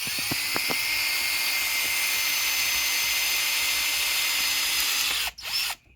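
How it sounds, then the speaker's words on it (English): Power drill running steadily at an angle into a lamp part, a continuous near whine for about five seconds that cuts out abruptly near the end, with a few faint clicks early on. "now I'm going to drill over here, but I've got to drill in at an angle and not straight"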